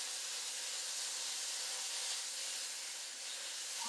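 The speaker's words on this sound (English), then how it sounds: "Stir frying away." Beef and black bean noodles stir frying in a pan, giving a steady, even sizzling hiss that holds at the same level throughout with no talking.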